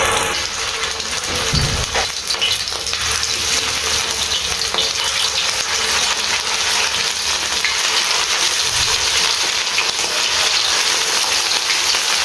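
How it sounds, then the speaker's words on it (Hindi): Peshawari chapli kebabs frying in hot oil, a loud, steady crackling sizzle that continues unbroken throughout with a few low clunks near the start. "तो अब हमने इसके अंदर कबाब फ्राई करने हैं"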